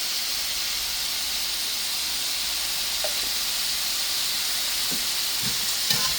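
Cumin and two bay leaves sizzle in hot olive oil in a pan, a steady close frying hiss with a few soft clicks of stirring near the end, no voices.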